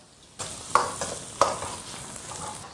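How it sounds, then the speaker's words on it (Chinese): Pork with chilies, pickled peppers, preserved vegetable and Sichuan bean paste stir-fried in a wok, a steady close sizzle punctuated by a few sharp scraping tosses of the spatula, no voices. "全部炒香出色"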